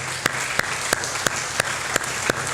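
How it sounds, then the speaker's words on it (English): An audience at a senior center volunteer recognition event claps, a dense wash of applause with a few sharp, evenly spaced louder claps standing out near the listener. "So give yourselves all a big round of applause."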